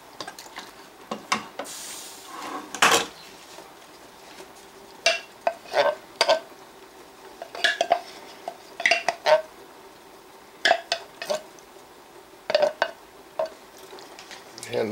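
Mushrooms are tipped into a pan from an Ozark Trail cookware set, with irregular clinks and scrapes of a utensil against metal and a faint sizzle underneath.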